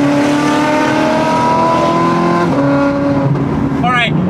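A Ferrari 430 Scuderia V8 engine revs loudly and steadily, its tone climbing and shifting as the car pulls through underpasses, with a brief high whine near the end.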